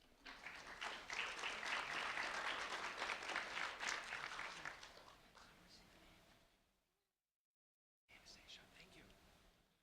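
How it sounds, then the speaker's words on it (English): An audience at a student recognition ceremony gives a sustained round of applause that swells, then tapers off into silence before scattered clapping resumes. The clapping is very faint overall, with a little murmuring among the listeners. "a round of applause for Anastasia, please"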